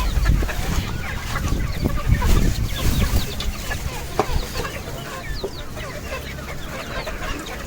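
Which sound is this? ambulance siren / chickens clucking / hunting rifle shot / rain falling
chickens clucking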